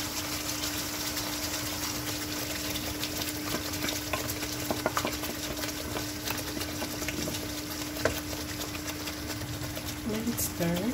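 Spinach for palak paneer is stirred and fried in a pan, giving a low steady sizzle over a constant mechanical hum, with a few soft spatula scrapes and clicks.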